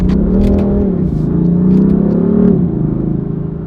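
A BMW M4 engine revs at around 3,500 RPM, a loud, close, steady growl that rises and falls slightly, with a rumbling low tone and no talking.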